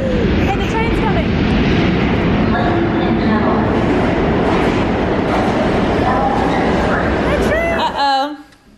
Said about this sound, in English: Hey, the train's coming.